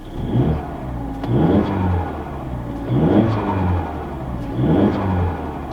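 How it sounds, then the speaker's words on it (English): A modified turbocharged Mazda CX-5 engine revs up and lets off repeatedly, each lift followed by a brief whooshing blow-off valve release, four cycles in a steady rhythm, close by. "you do get some blow-off noise"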